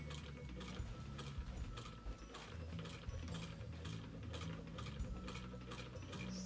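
Vintage 1891 Federation sewing machine stitching with a quiet, steady mechanical clatter, its rapid ticking and ratcheting beats evenly spaced and continuous, close and soft.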